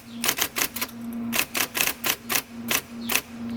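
A typewriter with a Sunshine Script typeface types a crisp run of about a dozen keystrokes at an uneven manual pace, clacking close and loud over a faint steady hum.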